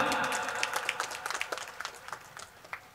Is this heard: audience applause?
yes